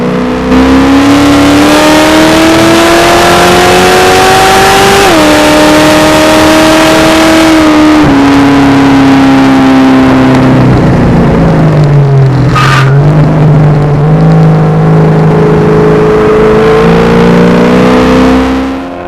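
A Ford Fairmont race car driven hard at High Plains Raceway, its engine roaring loud and close throughout with rising and falling revs, downshifts and a sharp blip midway, and no talk.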